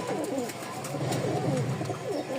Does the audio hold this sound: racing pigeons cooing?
yes